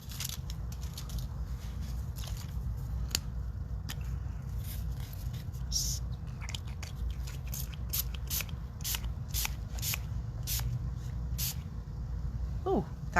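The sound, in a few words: white spray paint being sprayed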